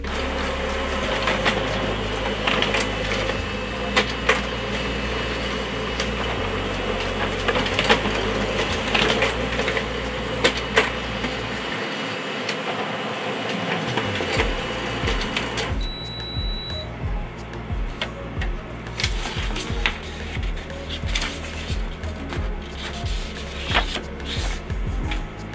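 A Canon MF455dw laser printer runs a two-sided copy job, its steady mechanical whirr and feed clatter continuous and close, with a brief pause in the low motor hum partway before the mechanism resumes a lighter rhythmic churn.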